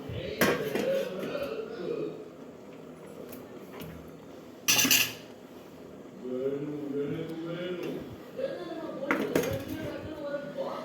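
A lid and a weight are set on a pot of mushroom biryani with clanging metal knocks, over a person talking throughout.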